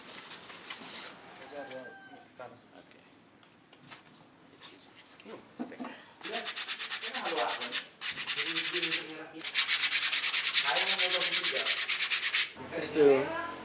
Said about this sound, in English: now we can take off the plastic and cut it